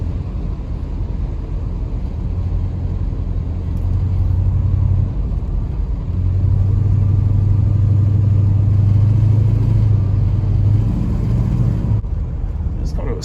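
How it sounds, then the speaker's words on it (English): A 1966 Buick Wildcat with a Super Turbine 400 automatic transmission accelerates through the gears, its loud, steady engine rumble droning close up and rising in pitch across the upshifts. "let's pull off here and come back on and go through the gears again."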